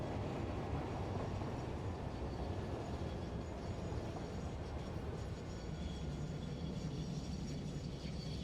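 A train rumbles steadily along the tracks, a dense continuous roar with faint rhythmic clatter of wheels, loud and close throughout with no voices.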